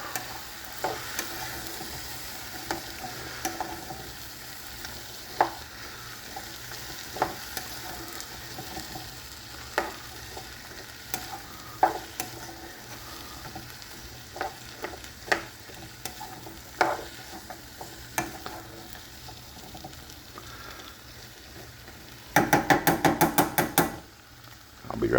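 Garlic stirred in a pot for chicken and andouille sausage jambalaya, with a constant low sizzle and regular spoon knocks and scrapes against the pot, ending in a quick burst of metallic clatter.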